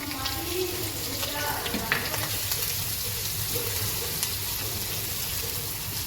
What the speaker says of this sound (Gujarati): આ તલ છેલ્લે નાખશું, ફૂટે ને એટલે.